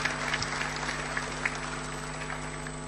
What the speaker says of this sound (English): Shall we just give them another round of applause as a welcome to the SADC family?